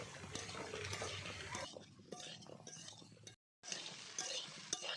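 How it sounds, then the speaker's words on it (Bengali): Mixed vegetables fry in a pan with salt and turmeric, giving soft sizzling with stirring scrapes and light clinks of a utensil, fairly close, broken by a brief silent gap. "1/2 টেবিল চামচ হলুদ গুঁড়ো দিয়ে এটাকে ভালো করে ভেজে নেব"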